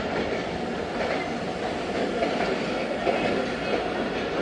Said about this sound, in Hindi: 15 अब 6007 लोकोमोटिव के साथ इंटर हो रही है मुल्तान कैंट